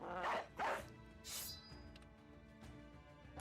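A dog in the video game Battle Brothers gives two quick barks close together, then a sharper bark-like burst, faint and alone over quiet game sounds.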